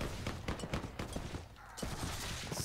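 Rapid bursts of Gatling gun fire in a Caribbean naval video game crackle in quick, uneven volleys, moderately loud and dense, with a brief lull midway before the firing resumes.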